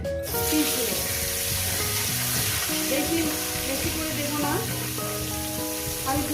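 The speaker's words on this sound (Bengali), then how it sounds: "পিস পিস করে ভেজে নিচ্ছি" Pieces of lailon tikka fish fry in hot oil, a loud, continuous crackling sizzle close up with dense spitting pops and faint tonal sounds in the background.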